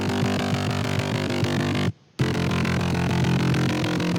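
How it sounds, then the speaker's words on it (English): A Serum saw bass patch used as a mid layer under the saws plays a dense, buzzing rhythmic pattern, cutting out briefly near the middle before resuming. "So it's like a mid layer for the saws, and it sounds like this."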